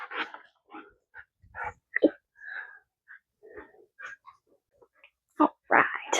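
A young puppy named Freya makes a run of short yips, whines, snorts and grunty squeaks, close and irregular, with breathy snuffles between bursts and a louder outburst at the end.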